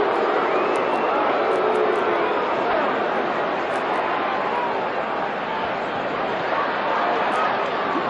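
Large arena crowd at the 1971 Muhammad Ali vs Joe Frazier heavyweight boxing fight, a steady loud roar of chatter and shouting filling the whole stretch without letup.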